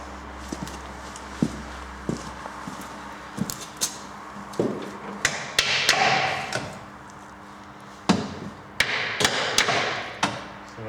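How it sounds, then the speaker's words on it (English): Sharp knocks as a stick taps down on the bolt heads of an MGB's front subframe to free it, a series of irregular close thuds and clacks with short pauses between, no talking. "I'm going to just tap down on the heads of those bolts, and hopefully that'll free it up."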